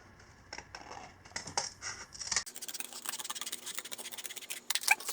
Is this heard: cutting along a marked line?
yes